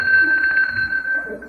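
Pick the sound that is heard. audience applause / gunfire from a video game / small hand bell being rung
small hand bell being rung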